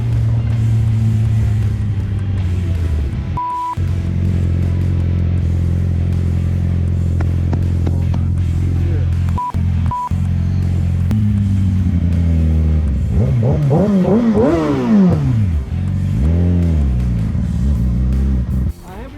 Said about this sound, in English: I was revving so you knew you could see where I was.